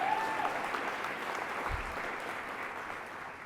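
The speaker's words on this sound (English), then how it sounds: "Please applaud extra loud if that's you." Audience applause for a guest at a public panel event in Ohio, a steady crowd clapping at moderate loudness throughout, continuous and fairly even without voices over it.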